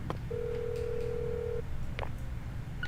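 A telephone is dialed in the video game Deadly Premonition 2: a single long steady tone is followed by a couple of brief keypress blips, heard over a constant low background hum.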